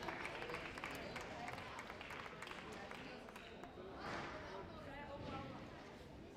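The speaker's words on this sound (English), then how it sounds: "Round of applause once again for the girls in the 17s" Steady applause from an audience at a junior squash championship podium ceremony for the girls' under-17 category, sustained clapping at moderate level with a voice talking over it.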